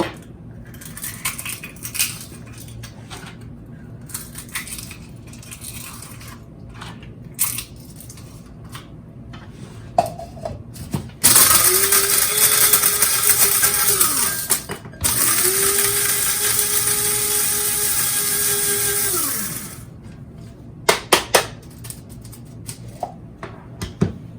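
A coffee grinder grinds eggshells in two loud bursts of harsh, whirring grinding with a brief pause between, surrounded by clinks and rattles of handling.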